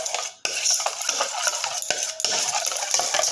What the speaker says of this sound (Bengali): বাটির মধ্যে ভালো করে দইটা ঢেলে ফেটিয়ে নিলাম